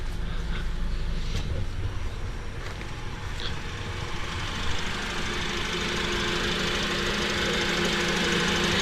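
A 2006 Honda Element with a 2.4 VTEC engine idles steadily up close, a continuous even rumble with a faint tick and no talk over it.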